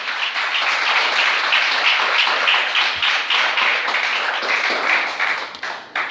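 A church congregation claims dense, sustained applause for about six seconds, many hands clapping together loud and close before tapering off slightly at the end.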